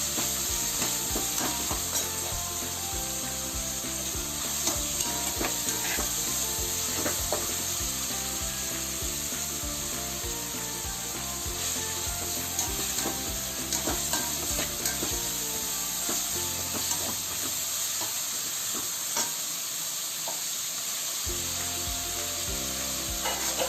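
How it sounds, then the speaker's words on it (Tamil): Capsicum, carrot and cabbage are lightly stir-fried in a pan for restaurant-style vegetable noodles, with continuous sizzling and a spatula scraping and stirring throughout, easing briefly near the end. "ரொம்ப பாயில் ஃப்ரை பண்ணக்கூடாது, கொஞ்சமாக ஃப்ரை பண்ணணும்"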